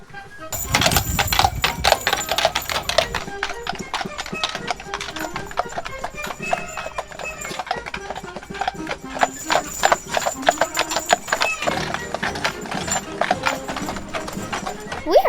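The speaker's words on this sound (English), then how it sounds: "Now we're going to ride the wagon to the farm. This carriage will take us to Hougoumont Farm." Horse-drawn wagon carriage rolling toward Hougoumont Farm on the Waterloo battlefield in Belgium, with steady, close clip-clopping hooves throughout, a brief whinny and some voices in the background.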